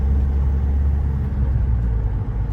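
A Mahindra XUV500, its gear rattle repaired, runs with a steady, smooth low engine rumble, close and continuous with no talking.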